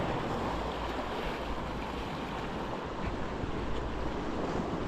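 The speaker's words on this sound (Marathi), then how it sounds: "थोडी थोडी लाटा आहेत" Small sea waves wash continuously at a fishing spot, with a constant rush of wind over the microphone and no voices.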